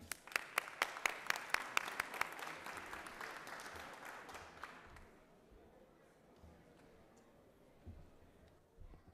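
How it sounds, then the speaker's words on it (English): Applause breaks out in the Georgia Senate chamber, a burst of many hands clapping that is fairly faint and distant, holding steady for several seconds before fading into room noise. "would please give her a warm round of applause for her great work"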